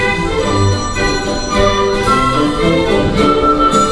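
A stately anthem in a thin, old-sounding recording from 1800, played continuously at a steady volume with no voices.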